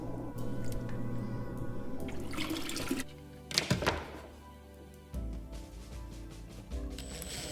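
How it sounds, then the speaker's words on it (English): A submersible pump runs in a water-filled cold plunge tub, with gurgling, splashing flow, drips and a dull thunk partway through, heard close. "it's time to put our submersible pump in and see if it actually works. It looks like it's pumping."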